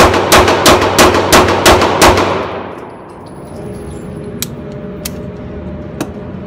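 Eight rapid shots from a Dan Wesson Valkyrie Commander pistol, fired strong hand only, ring out as sharp evenly spaced cracks over about two seconds, then fade into quiet with a few faint metallic clinks afterward.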